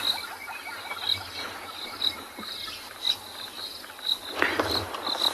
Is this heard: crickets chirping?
yes